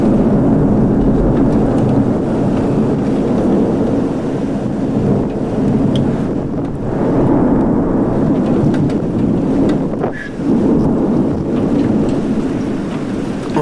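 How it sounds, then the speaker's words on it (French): A violent summer thunderstorm over Sallanches in the French Alps, with steady heavy rain and deep rumbling thunder rolling continuously, loud and close, with gusts of wind buffeting the microphone. "Orage magnifique, ça n'arrête plus."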